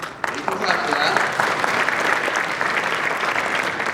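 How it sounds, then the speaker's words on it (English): An audience bursts into clapping during a political talk by a former U.S. senator, starting abruptly after a brief lull and continuing as a loud, dense, sustained round of applause. "You can clap for that."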